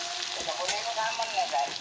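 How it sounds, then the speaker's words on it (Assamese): Canned tin fish sizzles and fries with masala in a kadai, a continuous close crackling hiss with light stirring, no talking. "এতিয়া ইয়াত টেমা মাছখিনি ইয়াত কেৰাহীত দি দিম"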